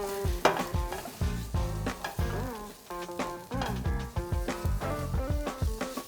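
A vegetable curry sizzles in a pan while being stirred, with scraping spoon strokes and bubbling under background music throughout.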